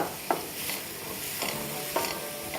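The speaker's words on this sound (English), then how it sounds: "I have about half a small onion that I just chopped up, and we're gonna let this start to cook" Half a small chopped onion sizzles steadily in a pan, a continuous close frying hiss broken by a few sharp stirring scrapes and clicks, with no voices.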